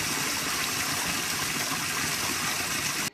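Water gushes steadily into a tank during washed coffee processing at Finca Tamana, a loud continuous rushing that stops abruptly at the end.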